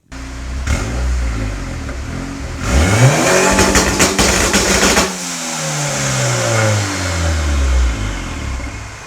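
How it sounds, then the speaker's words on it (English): A car engine with a wastegate fire ring idles, then revs hard on launch control and holds high for a couple of seconds before dropping and winding down, loud and close. "I'm gonna go ahead and do a little launch control rev."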